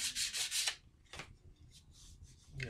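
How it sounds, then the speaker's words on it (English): Sandpaper rubs back and forth on a wooden gun stock in quick, soft strokes, first a burst of several close scratchy passes, then a pause, then a few more scattered rubs at low volume. "I'm going to sand it to 220."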